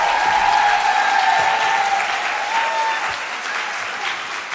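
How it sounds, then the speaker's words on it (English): Conference audience applause as a woman walks back to her seat, a dense, loud wave of clapping from a large room with a faint tone running through it, gradually softening toward the end. "Clap her all the way to her seat"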